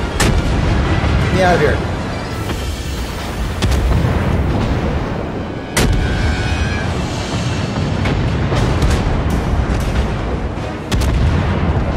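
Enemy warship gunfire in the World of Warships naval video game, heavy booming salvos landing every few seconds amid a constant rumble of engine and battle noise, with someone talking over it.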